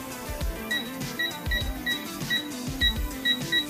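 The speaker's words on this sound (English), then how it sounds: "Power it on using the power button, then you can set the desired torque with the plus and minus buttons." Digital torque adapter buttons, the power and plus/minus keys, pressed in a steady run of short electronic beeps with faint clicks, about eight presses spaced roughly evenly, close and fairly loud, with no talking.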